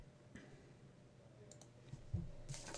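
A single computer mouse click sounds close and quiet against soft room noise, with a faint tap following.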